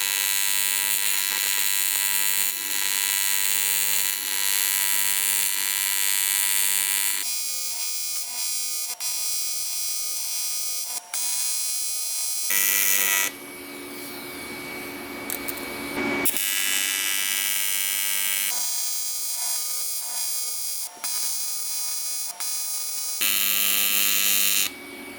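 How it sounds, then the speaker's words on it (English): TIG welding on a car radiator during a turbo K24 Nissan Cefiro build: a steady, loud electric buzz with a broad hiss, switching on and off in long passes with short gaps, no talk. "I think I'm just gonna weld it on the radiator so it doesn't bow too much"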